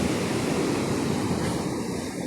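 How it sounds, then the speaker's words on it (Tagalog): Strong sea waves wash onto a beach shore in a continuous broadband roar, close and steady, with a wind-like hiss and no voices. "Pero malakas yung alon ngayon"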